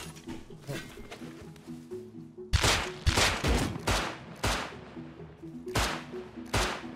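Gunshots ring out in the survival video game Rust: a string of sharp, loud cracks, several in quick succession and then spaced apart, over a steady tonal hum of game ambience.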